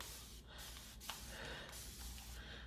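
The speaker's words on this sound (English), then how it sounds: "so I'm just gonna be using my spray bottle" A spray bottle of water mixed with deep conditioner mists hair on a headband wig, a few close, soft hissing spritzes in quick succession.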